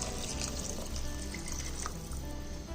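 Water is poured into a pressure cooker holding rice and vegetables for a vegetable biryani, a steady close splashing and filling sound running unbroken for a few seconds.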